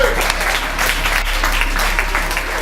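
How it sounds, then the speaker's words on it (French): Audience applause at a gala dinner in Lyon, a brisk, steady patter of clapping over a low constant hum. "On peut l'applaudir."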